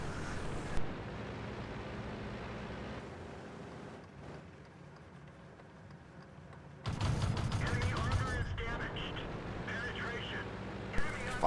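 Tank cannon fire in the World of Tanks game on the Malinovka map: loud booming shots and rattling battle noise burst in partway through, with steady engine rumble beneath and a commentator talking throughout.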